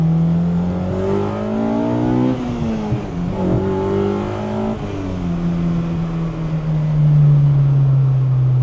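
A K-swapped Honda EK1 with individual throttle bodies revs up and down in close, loud rising and falling sweeps, a brief stumble and misfire breaking the tone before settling into a steady high idle.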